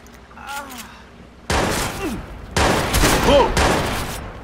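Gunfire in the video game Watch Dogs: sharp bursts of rapid shots, loud and close, arriving in several clusters after a brief quieter opening, with a voice heard early on.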